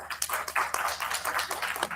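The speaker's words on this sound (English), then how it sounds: "I would request a big round of applause for all of them once more." An audience at a 30th Foundation Day celebration gives a round of applause: steady, fairly faint clapping from many hands, a dense patter without a break.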